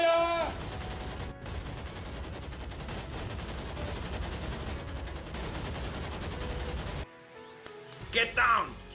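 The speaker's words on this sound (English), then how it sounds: "A soldier with a machine gun is shooting at them." Machine gun fire in a Lego World War II battle scene set in a city centre near the bridge at Remagen, a dense sustained burst of rapid shots lasting several seconds, then a brief quieter gap and a few scattered sharp sounds.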